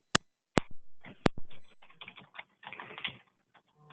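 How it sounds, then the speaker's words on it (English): People typing on computer keyboards in a quiet room, sharp isolated key clacks at first, then a busier run of soft, uneven tapping, close and faint. "Yeah, they're just typing."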